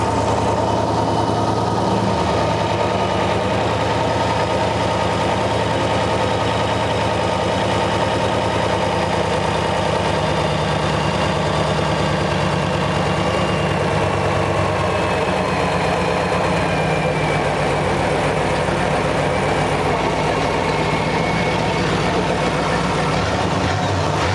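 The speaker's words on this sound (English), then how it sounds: "Let me try to idle it down." Supercharged engine of a 1963 Studebaker Avanti R2, a long-dormant barn find, idles steadily with a low, even rumble that holds close and continuous for the whole stretch, no talk over it.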